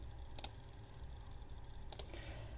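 A computer keyboard typing the command CMD: two separate short bursts of key clicks, about a second and a half apart, fairly faint over a low steady room hum.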